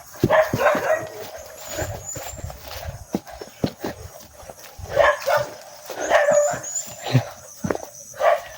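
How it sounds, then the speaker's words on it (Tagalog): A dog barks in short bursts, several sharp yaps spread irregularly over the clip, alongside footsteps and clattering, fairly close. "May aso mga tol."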